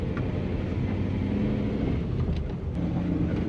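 A 1UZ-engined Toyota Land Cruiser creeps along at walking pace, its engine a low steady rumble with faint mechanical rattles, heard close and without talk.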